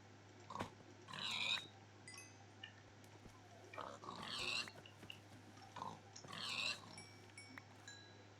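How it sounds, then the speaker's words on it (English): Pigs in Minecraft give short oinking grunts in three separate bursts spaced a couple of seconds apart, fairly faint over a constant low hum. "Like these 4 little pigs."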